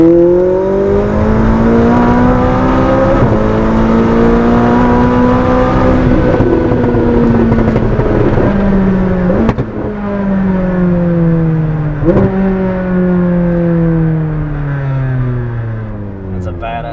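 McLaren 600LT with aftermarket air filters, tune and downpipes accelerating at night, its exhaust rising in pitch through long pulls with two sharp upshifts, loud and close throughout.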